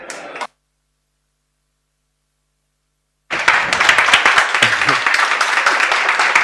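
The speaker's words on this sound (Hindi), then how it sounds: "आप लोगों ने तालियां बजा दी" Students clap in a steady burst of applause after a moment of silence, following a brief spoken snippet at the start.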